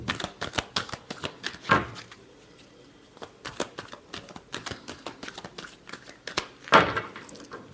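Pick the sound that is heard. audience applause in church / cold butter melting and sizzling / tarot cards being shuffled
tarot cards being shuffled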